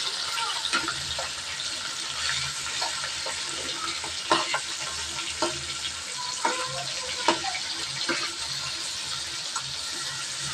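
Shing fish frying in a pan and being flipped over, a constant hissing sizzle with scattered spatula taps and scrapes as the pieces are turned, no voices.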